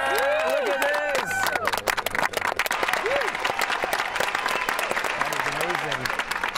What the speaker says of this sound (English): we got even applause back in the studio